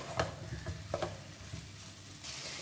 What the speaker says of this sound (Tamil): இதையுமே நம்ம இந்த எண்ணெயில் கொஞ்சம் நல்லா வதக்கிக்கலாம்.